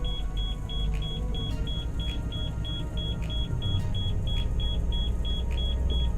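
A coach bus engine idles in drive and rises to about 1200 RPM with its spring brakes set, giving a steady, deep rumble alongside a regular electronic beep repeating throughout.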